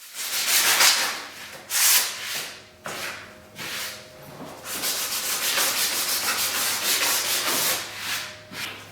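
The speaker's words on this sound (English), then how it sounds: "A quick sanding of the backboard." Hand sanding of a glued plywood backboard, rhythmic close rasping strokes in uneven bursts, some brief and some longer, loud with short pauses between.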